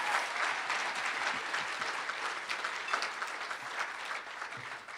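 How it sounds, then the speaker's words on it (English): Sustained audience applause at a community unity dinner after a singer's last performance, dense steady clapping filling the room from start to finish without a break. "let's just give them another round of applause"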